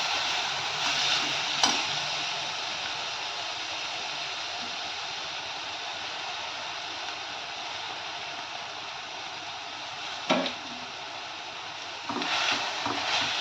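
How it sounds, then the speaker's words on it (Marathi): A dal mixture for a methi dish sautéing in a pan makes a steady, even sizzling hiss throughout, with a few brief scraping stirs near the start and end. "टाकल्यानंतर आणखी त्याला असं परतून घ्यायचं आहे."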